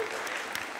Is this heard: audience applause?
yes